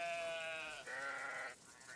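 Sheep in the video game Book of Travels give a few drawn-out, wavering bleats, soft and somewhat distant, one overlapping the next with no talking.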